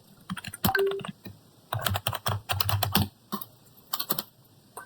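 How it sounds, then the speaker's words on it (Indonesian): A command is typed on a computer keyboard while configuring a network router, a close run of brisk keystrokes in uneven bursts with short pauses between words and no talking. "Oke, kita ketikkan show IP brief."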